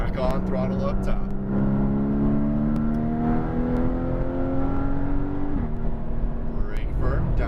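A race car engine on a track in Vegas climbs steadily in pitch under throttle, then drops sharply at a gear change, loud and close, with a voice talking over it throughout.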